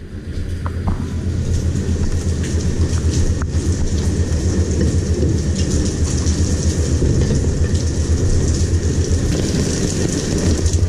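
Heavy rain pours down in a steady, loud, dense roar that continues without a break, and no one speaks.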